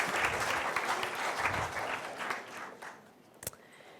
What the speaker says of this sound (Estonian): Teeme aplausiga.